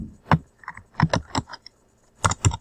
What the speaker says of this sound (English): I'm going to type the heading